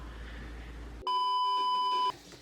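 A camera emits a single steady electronic beep about a second long as its battery dies, loud and clear against a quiet background.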